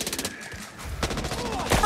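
Rapid bursts of gunfire rattle in the zombie shooter Back 4 Blood. A quick run of shots comes first, then a louder, denser volley close by, mixed with other game sounds.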